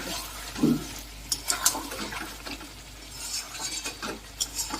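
Spice paste of cumin and coriander being stirred and sautéed in oil in a pan for Bengali doi chicken, with scattered utensil scrapes and clinks against the pan over a soft background hiss.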